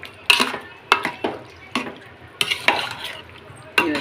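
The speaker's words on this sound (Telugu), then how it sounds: "కందిపప్పు మొత్తం వేసేసుకుని కలుపుకున్నాను బాగా." A ladle repeatedly scrapes and knocks against a cooking pot as boiled toor dal is stirred into vegetables for Chennai-style sambar, giving sharp, irregular clinks separated by brief pauses.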